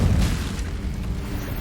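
A fiery spell bursts in a Hogwarts video game, a loud rumbling whoosh that surges at the start and then rolls on as a dense, sustained roar.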